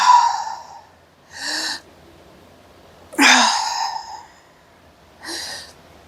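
Deep breaths during a seated upper-body dumbbell workout: four distinct inhales and exhales spaced a second or two apart, close and clear, with a sharp, loud intake near the middle and no talking.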